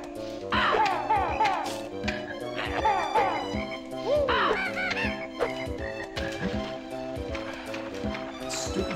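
Cartoonish birds cawing in the Click Clock Wood level of Banjo-Kazooie, swooping squawks repeating every second or two over steady, busy background music.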